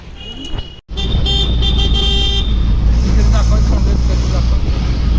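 Two auto rickshaws pulling up and idling nearby, a low engine rumble running throughout with a short horn toot and busy street traffic around, voices chattering over the noise.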